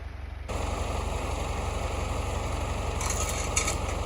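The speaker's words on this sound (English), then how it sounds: "Now the tractor can actually move." A tractor engine runs with a steady, heavy low throb as the machine moves off, near and continuous, with a brief rattle of higher clatter near the end.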